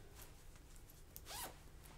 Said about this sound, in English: It zips